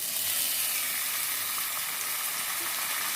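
Gobindobhog rice frying in ghee in a pan with cashews, raisins and bay leaf, giving a steady, dense, close sizzle with a faint stirring texture throughout and no voices.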